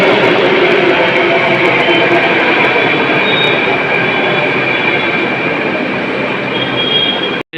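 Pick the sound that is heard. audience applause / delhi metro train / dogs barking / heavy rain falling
delhi metro train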